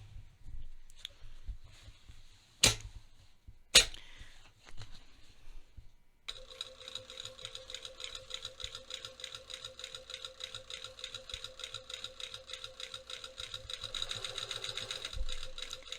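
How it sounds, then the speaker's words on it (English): A sewing machine bastes welt pocket lines on trousers. A few sharp clicks and handling taps come first, then a steady rapid stitching hum runs for about ten seconds, close and fairly quiet, with no talk. "So I'm just going to be machine based along all 4 of these lines that I just drew."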